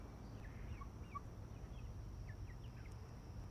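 Faint bird chirps and clucks from small chickens scattered over a steady low background rumble, with no talk.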